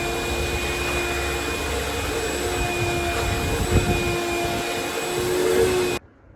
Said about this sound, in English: Now we're gonna vacuum all the poop out and get this thing smelling half decent